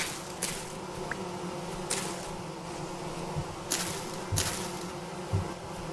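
Bees buzz around forest flowers in the video game Vintage Story, a low, steady hum with a few sharper broadband bursts rising and fading over several seconds.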